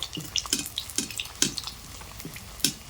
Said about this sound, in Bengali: চপগুলো দেওয়ার পর চপের গায়ের ওপরে ছ্যাঁকা দিয়ে তেলগুলো দিতে হবে